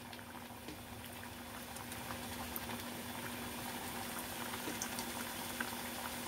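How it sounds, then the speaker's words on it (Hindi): Sweet mathri pastries fry in oil over medium heat, a soft, even bubbling and fizzing that holds steady throughout at low volume, with no talking. "एक एक मठरी इसमें डालते जाना और ये फूल के अपने आप ऊपर आ जाएंगी।"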